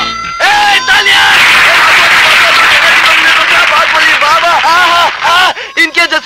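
Loud crowd applause and cheering in a scene from a Hindi crime thriller movie, a dense steady wash of clapping mixed with shouting voices that breaks off into scattered claps near the end.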